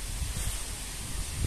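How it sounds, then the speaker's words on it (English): Wind blowing outdoors on a bricklaying site with concrete blocks, a steady broadband rush with low buffeting rumbles against the microphone, fairly loud and unbroken. "it's a bit windy today."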